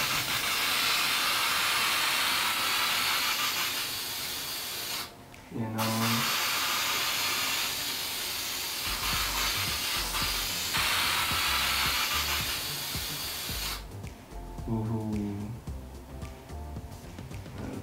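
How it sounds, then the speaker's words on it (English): An aerosol can sprays atmospheric smoke haze in a steady, loud hiss that breaks off briefly midway, resumes, then fades near the end. "we're gonna try atmospheric aerosol, which is pretty much smoke haze in a can"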